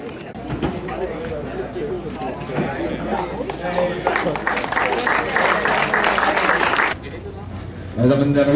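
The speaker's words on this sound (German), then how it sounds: "Meine Damen und Herren, riesen Applaus" An outdoor crowd at a cycling race award ceremony claps in sustained, rising applause while an announcer speaks over a PA system, then the clapping abruptly drops away near the end.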